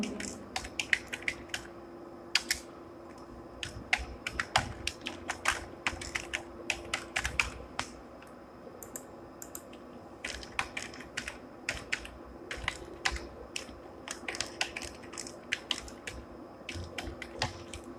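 Someone types an email address and password on a computer keyboard: steady bursts of close, crisp key clicks with short pauses between them over a faint hum, and no talking.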